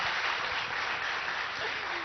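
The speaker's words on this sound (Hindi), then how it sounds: "किसी बात पे ताली नहीं बजी, इस बात पे बजी है" An audience at a political summit breaks into brief, dense applause, a steady wash of clapping heard alone for a couple of seconds.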